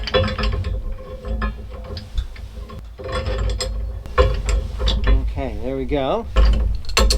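A ratchet tightens a bolt through a swivel and shackle on a boat, giving bursts of close metallic clicking with heavy creaking and straining. Someone speaks briefly.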